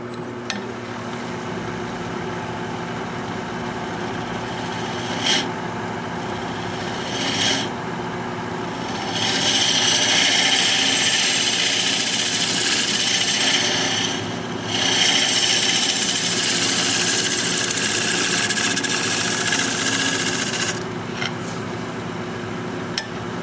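A scraper rasps against a mushroom bowl spinning on a wood lathe, a steady rough scraping over the motor's hum that grows louder in long passes with brief pauses between them.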